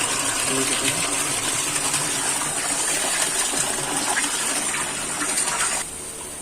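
Water gushes hard from a 2 HP three-phase submersible motor pump's outlet in a loud, steady roar, then drops off abruptly near the end as the valve is shut, leaving a quieter hum.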